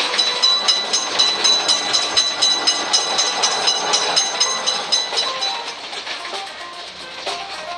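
A cartoon train rolls past a railroad crossing, a loud rhythmic clickety-clack of wheels over rail joints that gradually fades as it moves off.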